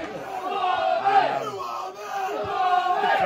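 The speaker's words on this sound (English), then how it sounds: "The crowd are up for it." Football crowd at a non-league match between Gainsborough Trinity and South Shields chanting and shouting after an equaliser, a sustained roar of voices rising and falling.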